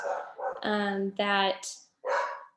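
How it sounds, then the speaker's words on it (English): Dogs bark in short bursts, several loud, harmonic yaps close by, interleaved with a voice talking over and between them indoors. "my dogs are going crazy. I don't know if you can hear them"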